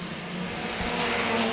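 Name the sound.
mini stock race cars racing at Auburndale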